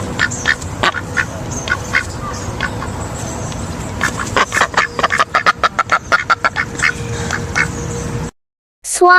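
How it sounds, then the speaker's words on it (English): A duck quacks repeatedly in loud, close bursts, the calls speeding up into a rapid run of quacks before a brief silence. "duck"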